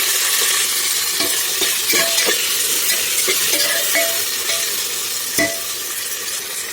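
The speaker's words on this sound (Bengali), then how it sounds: "তো সবজিগুলো ভালো করে ভাজি করে নেব।" Chopped vegetables with onion and green chilli fry in a hot pan, a steady sizzle broken by repeated sharp scrapes as a utensil stirs them against the metal.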